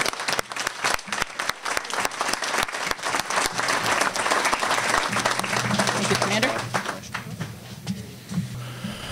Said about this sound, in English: Let's have one last round of applause for them.